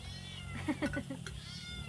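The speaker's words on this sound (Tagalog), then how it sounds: "maingay ang ating mga kuting." Several kittens meow in quick, overlapping high cries while eating at a countryside hut, near and fairly loud above a low steady background hum.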